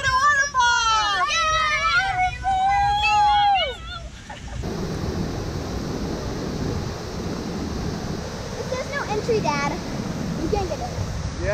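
Steady broadband roar of Millimeter Waterfall near Cairns, Australia, in misty, rainy conditions, filling the second half of the clip after a few seconds of children's excited voices.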